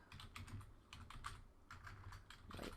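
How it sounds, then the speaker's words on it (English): Quick bursts of keystrokes clatter on a computer keyboard, close and quiet, in short clusters separated by brief pauses. "Let's type in the same thing here."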